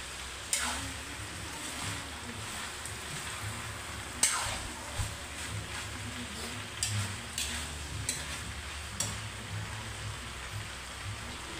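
Tofu sisig is stirred as it fries in a pan: a quiet, steady sizzle under repeated scraping strokes and sharp spatula clicks at irregular intervals, with no talking.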